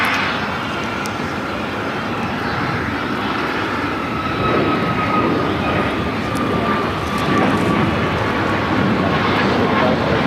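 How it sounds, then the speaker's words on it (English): An American Airlines Boeing 777-300ER pushes back at LAX, its engines giving a steady loud whine and broad rumble throughout, with other airport noise around it. "American 777-300ER now pushing back."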